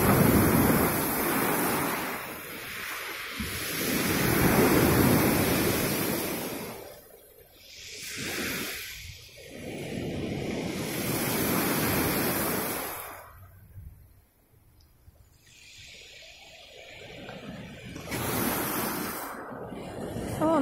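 Cold sea surf rolls onto the shore in long surges that swell and fade every few seconds, with gusting wind buffeting close by and no voices.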